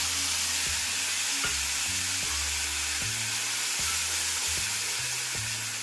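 Ground spice paste frying with whole cumin seeds in a pan, stirred over medium heat: a continuous close hiss and sizzle with regular spatula strokes against the pan, no talking.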